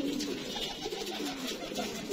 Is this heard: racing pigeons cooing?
yes